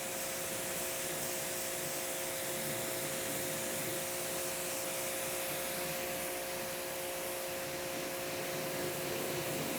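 A car is rinsed with water during a wash, testing ceramic spray coatings; a steady broadband hiss of spraying water runs unbroken throughout, fairly loud and close, with no talking.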